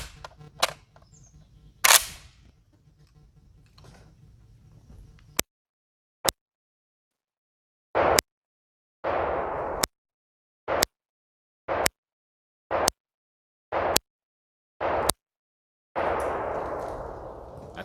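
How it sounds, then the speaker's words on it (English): A Century Arms C308 CETME rifle firing from a CETME magazine, roughly a dozen sharp, loud reports spaced about a second apart with brief silences between, some trailing into echoing reverb, after a few softer handling clicks. "Gonna run some rounds through this."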